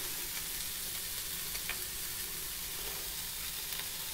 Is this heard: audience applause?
no